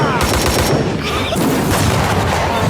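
Dense bursts of anime gunfire mixed with booming explosions from a war-themed anime, loud and continuous throughout, with heavy low rumble under sharp cracks.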